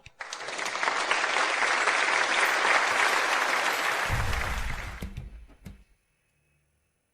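A studio audience at a young painters' talent competition applauds just before the winners are announced, a loud, sustained burst of clapping lasting several seconds before it tapers off and stops abruptly.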